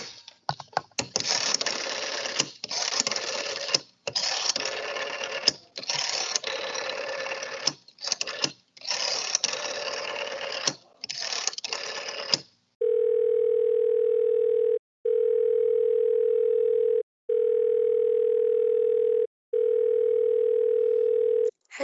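An old telephone is worked in a radio drama: a rapid series of rotary-dial clicks and whirs, then a loud electronic ring tone sounding in four even bursts with short gaps between.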